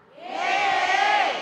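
An indoor audience at an Islamic religious talk show responds with a short swelling burst of crowd cheering and clapping that rises and holds for about a second, fairly loud.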